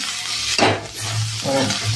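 Mixed leafy greens sizzle in a hot pan while being stirred, with two short scraping strokes over a steady frying hiss.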